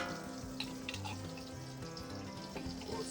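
Beef tallow heating and starting to sizzle in a pan before ribeye steaks go in, giving a steady, close, continuous frying hiss with faint crackles and no talking.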